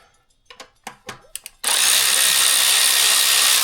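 A power tool cracks loose the mounting bolts on a 2018 Subaru STI top mount. A few close clicks and knocks come first, then the tool bursts into a loud, steady, continuous whirring buzz that runs to the end.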